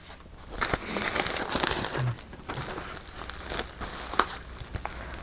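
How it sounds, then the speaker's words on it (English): Handmade paper, once used to wipe off paint, crinkles and crackles as it is handled up close, in a steady run of dry rustles and sharper crunches with no talking. "This is handmade paper that I used to wipe off"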